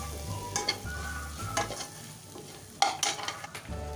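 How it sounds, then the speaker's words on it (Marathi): Biryani masala and chili powder being stirred into green peas in a pan, with a spoon scraping in uneven strokes and a quiet sizzle underneath, fairly close and without talk. "हे व्यवस्थित मिक्स करून घेऊया, म्हणजे वाटाण्याला हा सगळा मसाला लागेल."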